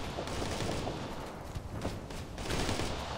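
Heavy gunfire in Operation Flashpoint: Red River, the dense rattle of automatic weapons swelling and easing in bursts against a loud, constant battlefield roar, with no talking.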